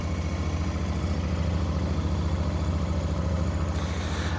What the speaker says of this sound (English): That's super smooth, that engine, isn't it?